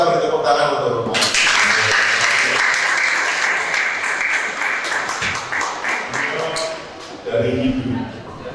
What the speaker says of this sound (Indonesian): Kita beri tepuk tangan untuk Pak.